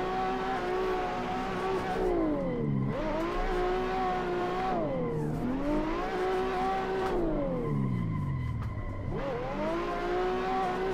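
Drift car in the Assetto Corsa racing game, engine revving hard and rising and falling in pitch through repeated throttle lifts on an uphill drift, with faint tire noise, loud and continuous with no talk.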